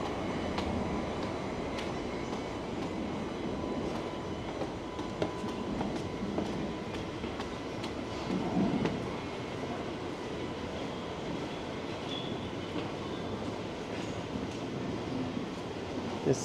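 A northbound subway train passes near Davisville Station in Toronto, a steady broad rumble and rail clatter holding for the whole span with a slight swell midway and no talk.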